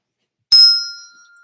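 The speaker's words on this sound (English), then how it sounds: "We also have just a simple bell" A simple hand bell gives a single bright ring that starts suddenly and fades slowly, alone in silence, with one long high tone lingering after the strike.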